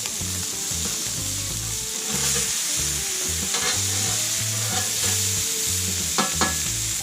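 Blackened grouper fillets frying on a Blackstone flat-top griddle, a steady close sizzle with bursts of scraping and clinking from a spatula as the fish is worked and flipped.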